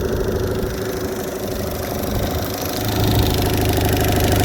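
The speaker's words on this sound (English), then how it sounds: "Run this engine longer and see how hot it will get at idle" A 2017 Evinrude E-TEC 15hp H.O. outboard engine idles with a steady, loud, slightly knocking mechanical drone, rising a little in level partway through, with no voices over it.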